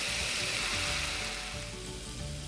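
Chicken frying in a pan for chow mein, with a loud, continuous sizzle of hot oil and a few soft stirring scrapes. No one speaks.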